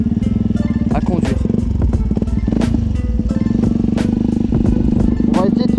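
A Yamaha WR 125 X supermoto motorcycle engine running close and loud with a steady, buzzing drone and rapid pulsing, a person speaking over it.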